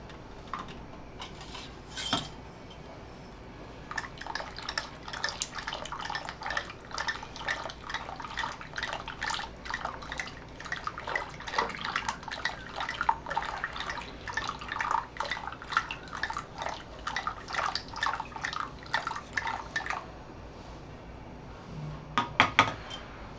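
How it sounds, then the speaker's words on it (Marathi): Cooked toor dal mashed in a pressure cooker, heard as repeated wet clinks and scraping taps of a utensil against metal in an uneven, steady rhythm, fairly close with no talk. "आता छान घोटून घेते मी एकजीव करायची आपल्याला ती"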